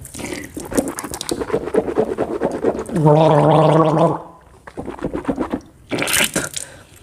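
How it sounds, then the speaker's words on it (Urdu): Water swished and gargled in the mouth while rinsing during wudu, a steady bubbling gurgle lasting about a second between stretches of nearby speech. "اور اس کو آگے پیچھے دائیں بائیں زبان کے نیچے اوپر اچھے طریقے سے گھمانا ہے تاکہ پورا منہ جو ہے وہ پانی کے ساتھ تر ہو جائے"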